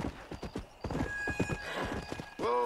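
A horse gallops in the video game Red Dead Redemption: Undead Nightmare, with rapid rhythmic hoofbeats throughout and a loud neigh at the very end.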